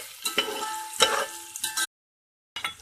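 Potatoes fry in a pot with crackling sizzles and a few stirring scrapes in short bursts, cutting briefly to silence before the sizzling returns close up.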